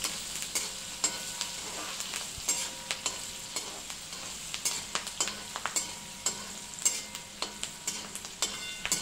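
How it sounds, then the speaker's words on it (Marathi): Curry leaves and chillies crackling in hot oil for poha chivda, a steady close sizzle broken by rapid pops and spatters, with occasional stirring and no one talking. "कढीपत्ता हे तडतडलं ना."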